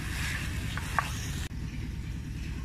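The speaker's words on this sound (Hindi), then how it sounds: "चिकन को फ्राई कर रहे हैं, तब तक करेंगे जब तक इसका कलर चेंज नहीं होगा" Chicken frying in a pan for white korma, a steady broadband sizzle running throughout with a faint clink near the middle.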